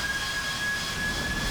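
Boeing E-767 jet engines spooling up in Microsoft Flight Simulator 2020, a steady, loud broadband roar with a thin high whine running through it, continuous and unbroken.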